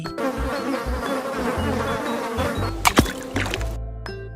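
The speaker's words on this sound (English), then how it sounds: "Yellow bee." A yellow bee buzzing close by, a loud continuous droning hum that wavers in pitch, with a couple of brief knocks near the end before it cuts off.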